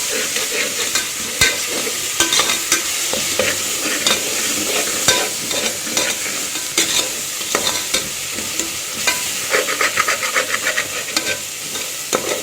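Onion and ginger fry in a pan while being stirred, producing a constant loud sizzle with rapid scraping and tapping strokes throughout, with no voices.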